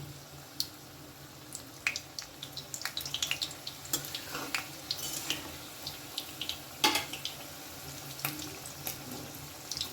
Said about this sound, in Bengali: তেল গরম হয়ে গেছে এবারে আমি একটা একটা করে এগুলো ভেজে নেব